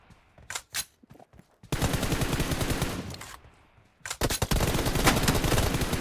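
Video game gunfire with headshots: a few scattered single shots give way to two long, loud bursts of rapid automatic fire, separated by a short pause.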